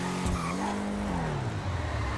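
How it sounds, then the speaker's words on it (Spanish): Tuned car drifting in a video game, its steady engine tone sliding in pitch as tires squeal through a skid, loud and continuous throughout. "Derrapa bien."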